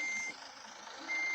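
A bus in a bus simulator video game sounds steady electronic reversing beeps, a continuous high tone that dips briefly and returns, over a faint engine hum with no voices.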